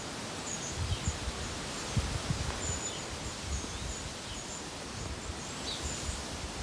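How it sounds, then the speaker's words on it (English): Wind moves through the trees of a small woodland garden, a steady broad leafy rustle close around the listener, with faint bird chirps scattered high above it. "just want you to hear the noise of the leaves in the wind"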